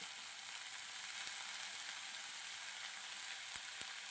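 Mustard seeds spluttering in hot oil for a Kerala lunch, a faint steady sizzle with a couple of tiny pops near the end.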